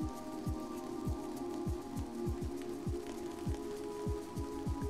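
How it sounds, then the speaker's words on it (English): Synthesized rain from a PS3 controller synth: a steady patter of falling drop-like blips over soft sustained late-night chords, even and unhurried. "Some rain."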